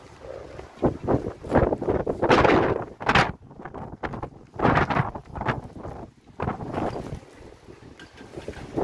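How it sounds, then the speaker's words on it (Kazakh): Strong wind gusts buffet the microphone in loud, rushing bursts that rise and fall irregularly, with quieter lulls between them, as a sudden brief rain shower passes. "Аяқ асты жаңбыр. Жел соғып."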